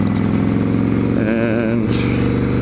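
A motorcycle engine runs steadily throughout while riding, a loud continuous drone with a shift in pitch midway as the revs rise and fall, close to the microphone.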